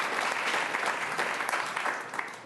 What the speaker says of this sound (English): One more time, applause for our two keynote speakers, Rachel and Mayor Friel, please.